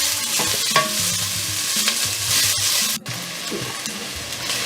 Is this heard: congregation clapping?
no